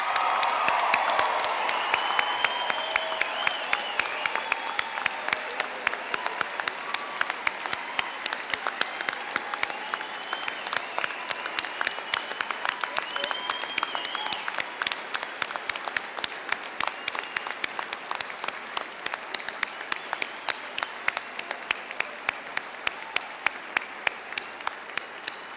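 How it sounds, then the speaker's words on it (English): A big crowd at the 2014 University of Maine at Farmington commencement gives the new graduates a rousing ovation, sustained loud clapping mixed with cheers and whoops that swells at the start and then settles into a steady roar. "Let's give all of the new graduates a rousing round of applause."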